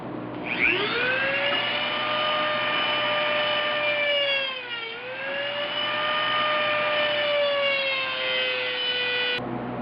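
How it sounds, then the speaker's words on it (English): Dremel 4000 rotary tool cutting sheet metal on a 1976 Mazda RX-5 Cosmo, a loud high whine that spins up, sags briefly under load around the middle, then holds steady before cutting off abruptly. "I bought me a real Dremel 4000, and after using this sucker, I will never waste time with the off-brand rotary tools ever"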